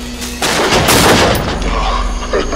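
A single loud, close gunshot booms in the horror game Until Dawn, with a sharp onset followed by a long fading tail.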